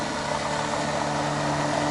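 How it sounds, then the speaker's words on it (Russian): A flat-bottom motorboat with a Tohatsu 9.8 outboard motor passes on the water, making a steady mid-pitched engine drone with a faint hum throughout the two seconds. No voices are heard. "Моторка идет. Такая же плоскодонка."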